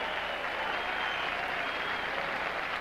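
Crowd applause after a point at a 1978 Forest Hills tennis semifinal, a steady dense clapping that holds loud and even from start to finish.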